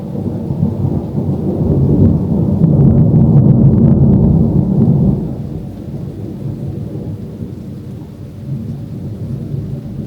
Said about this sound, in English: I love storms.